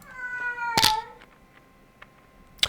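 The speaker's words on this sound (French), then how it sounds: "le chat qui vient me déconcentrer comme d'habitude." A house cat meows close by in a loud, drawn-out, tonal call, followed by a shorter second meow a moment later, with faint clicks in between.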